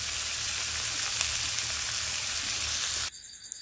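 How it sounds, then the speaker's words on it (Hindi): Potatoes and cowpeas tempered with turmeric and green chili in a hot pan, a continuous close frying sizzle that runs steadily and then cuts off abruptly; no talking. "ये सब्ज़ी को हम छौंक देते हैं, तो इसमें आलू डाल लिए हैं और लोबिया है।"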